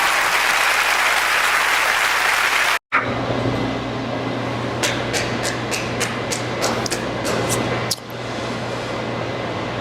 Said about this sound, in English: Humongous round of applause for Lara Fabian.